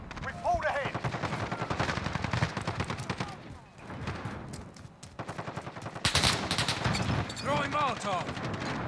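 Rapid bursts of automatic gunfire and single shots in a multiplayer shooter video game, loud and repeated across the whole stretch with a faint voice underneath.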